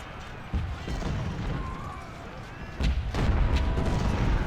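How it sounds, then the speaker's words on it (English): Massed Civil War musket volleys from a brigade's flanking fire in Ultimate General: Civil War, steady rolling gunfire and distant artillery rumble, with someone talking over the battle noise. "Kemper's brigade is pumping in some flanking fire also."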